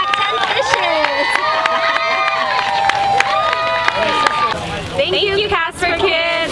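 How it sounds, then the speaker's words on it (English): A lively crowd cheers and shouts for children at a Cast for Kids fishing event on Lake Washington, whoops and yells overlapping in loud bursts as people nearby talk and call out. "Turn around and look at them cheer you on."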